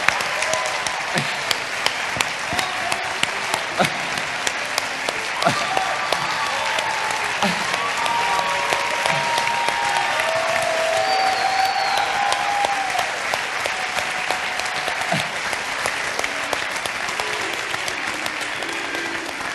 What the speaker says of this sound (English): be marinated in the applause of those who have loved your culinary arts